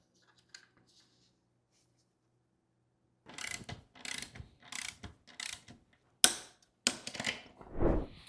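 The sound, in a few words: tensioning e-bike chain and tightening the axle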